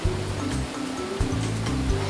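A waterfall rushes in Super Bear Adventure, a broad, constant roar of water close and loud, layered with tonal game music underneath.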